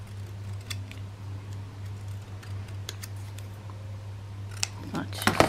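Scissors cut a laminated bookmark: sparse, faint snips and ticks over a low steady hum, ending in a quick cluster of louder, sharper cuts.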